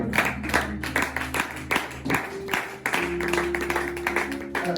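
A church congregation at an evening seminar service claps in a steady rhythm to acclaim Jesus, the sharp hand claps landing in quick regular bursts over sustained music.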